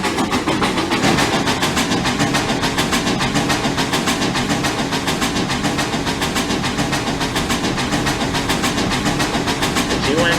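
A&WP 290 and BM&R 425 locomotives run together in Trainz Railroad Simulator 2019, giving off a steady loud hiss and rapid rhythmic chuffing that keeps on without a break.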